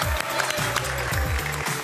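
A studio audience on a French TV game show applauds steadily, a dense wash of clapping with some music or voices underneath.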